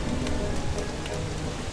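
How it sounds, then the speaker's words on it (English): Steady rain falling in a video game, a dense even hiss of drops throughout, moderately loud and close, with no voices. "Oh, it's raining!"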